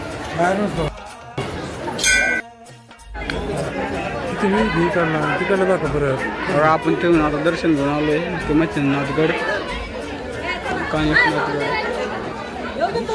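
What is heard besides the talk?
crowd chatter of pilgrims at a crowded temple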